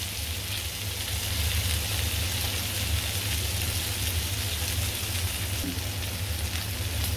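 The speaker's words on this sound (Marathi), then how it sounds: "आता आपले बांगडे फ्राय करून झालेले आहेत." Bangda mackerel fry in a pan over medium gas, a dense continuous sizzle with a low, even hiss, close and steady throughout with no talk.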